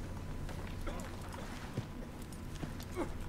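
Horse hooves clip-clop at a running pace in the video game Red Dead Redemption 2 under a constant low rumble, with a few sharper thuds standing out; voices are faintly present.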